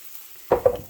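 Ground meat hits a hot pan of onions and garlic with a sudden close sizzle and scrape, breaking the near silence and staying loud and bright to the end.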